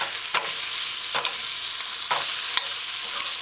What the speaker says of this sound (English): Just going to allow it to saute.